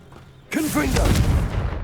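A Confringo fire spell explodes in Hogwarts Legacy, a sudden loud burst that swells into a sustained crackling roar with rising whooshing tones, running on under a cast shout.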